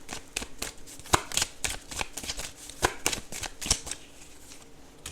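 A deck of tarot cards being shuffled by hand, a steady run of crisp riffling flutters and soft slaps close up, with brief pauses between bursts and no voices.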